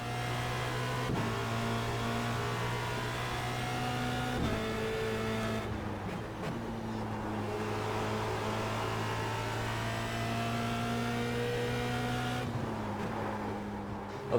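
Formula Renault 2.0 and Star Mazda race car engines in the iRacing sim hum steadily through a fast lap, with tonal revs rising and dropping sharply at gear changes and braking points, loud and continuous with no talk.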